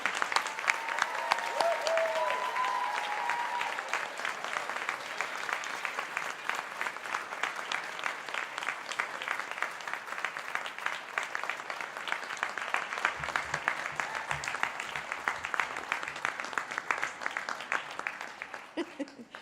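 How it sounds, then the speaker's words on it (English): Sustained applause from a large audience of graduates and guests at a Faculty of Dentistry convocation ceremony, a steady dense patter that lasts throughout, with faint voices and a brief low murmur near the end. "now it is your turn to honor them with your cheers and applause"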